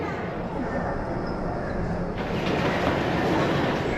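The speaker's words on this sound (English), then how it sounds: "We are taking a train to the baggage claim." Steady rumble and rolling hum of an airport train to baggage claim in China heard from inside the car, rising slightly louder toward the end.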